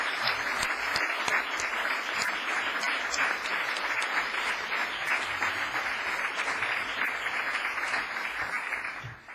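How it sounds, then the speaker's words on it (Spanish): Applause for a nomination during a council session, a full, sustained round of clapping from many people that stays loud and steady before cutting off abruptly at the end. "también repetimos el aplauso a su nominación"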